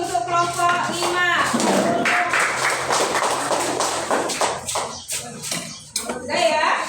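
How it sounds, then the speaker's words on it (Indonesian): Classroom applause from students for a presenting group, steady clapping from many hands across the whole stretch with children's voices and chatter mixed in, loud and close. "Kita kasih aplaus untuk kelompok 5."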